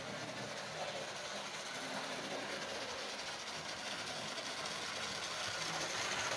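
A model Great Western locomotive on a split chassis hauls three coaches around a layout, giving a steady, fairly faint whirring hiss with light rail clatter that runs unbroken.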